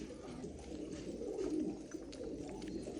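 Pigeons coo in a loft, soft low rolling calls repeating steadily, fairly close, over a faint background hum, with no talk.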